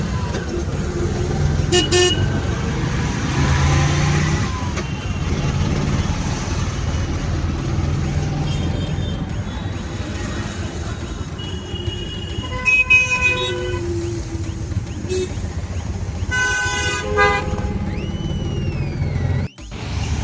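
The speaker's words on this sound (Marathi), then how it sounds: "तर आता मित्रांनो रिक्षात बसलोय." Ride in an auto rickshaw through busy traffic, with a continuous rumbling engine and road noise, punctuated by several short horn toots from nearby vehicles, mostly in the middle and latter part.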